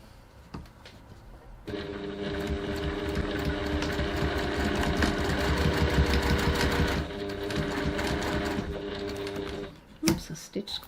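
A sewing machine stitches the corner of a bag in one steady whirring run of rapid needle strokes for several seconds, stopping abruptly, with a few soft handling clicks before and after and someone speaking around it.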